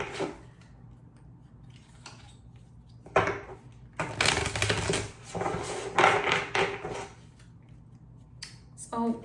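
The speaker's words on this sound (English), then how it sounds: "I'm just gonna do a little bit of shuffling here." Tarot cards are shuffled: crisp papery riffling and flicking in bursts, louder in the middle, close and without voices.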